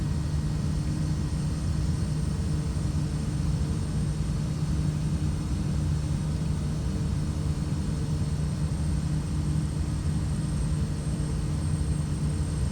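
A Kodiak 100 single-engine turboprop on a steep approach in Papua New Guinea in Microsoft Flight Simulator 2024, with a constant loud propeller and engine drone heard from the cockpit.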